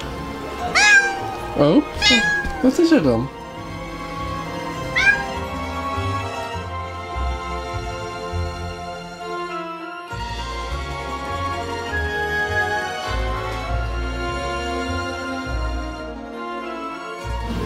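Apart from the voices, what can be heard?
cat meowing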